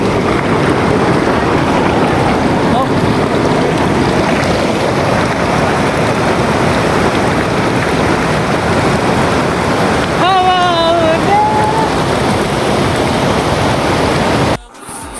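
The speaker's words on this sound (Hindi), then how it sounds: "अब आप भी झरने की वॉइस ओवर को सुनिए।" Steady, loud rush of a mountain waterfall in a Himalayan valley on the trek to Shrikhand Mahadev, a dense continuous roar filling the whole clip, with a brief whistling tone near the end.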